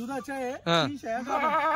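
Kathiawadi goats at a market bleat loudly and close by, several quavering calls in quick succession with a short pause between them.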